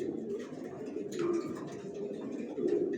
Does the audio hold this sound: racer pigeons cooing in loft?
yes